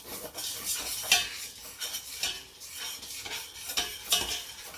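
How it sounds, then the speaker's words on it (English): A spoon stirring chicken browning in a pan for a yogurt-glazed chicken meal, with soft scraping strokes and light clinks against the pan over a faint sizzle, close and quiet. "And then stir it and let it brown."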